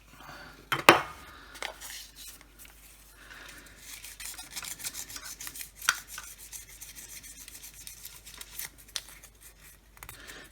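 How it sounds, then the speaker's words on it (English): Tissue rubs over the grimy contacts of a zebra strip in a Tomytronic 3D handheld game, making soft, quiet scratchy scrubbing strokes in an irregular rhythm close up, with one sharper scrape near the start. "I'm going to clean those contacts up on that zebra strip first."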